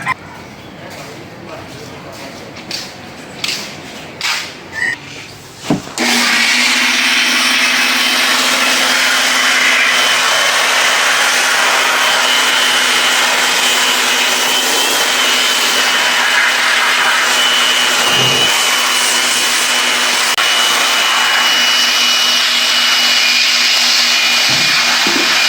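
A hot air blower drying the inside of a washed, flood-damaged Carrier inverter aircon unit after corrosion cleaning, switching on abruptly and running as a loud, steady, close whoosh with a constant hum, after a few seconds of light handling sounds.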